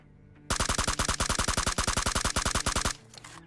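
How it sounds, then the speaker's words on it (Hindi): A rapid burst of automatic gunfire from the mobile battle royale game BGMI rattles out in a steady, evenly spaced stream of about two dozen loud shots lasting over two seconds, then stops abruptly. "लेकिन अभी उसने फायर किया तो अब मैं तो फायर ही करूंगा ना।"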